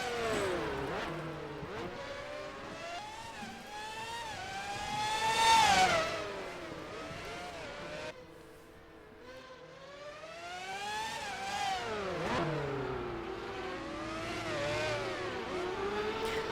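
Formula One cars lap Monaco in the NASCAR Racing 2003 game, their high-pitched engines whining through gear changes, rising and falling as they rev and pass, one car swelling loud mid-clip, with no talk.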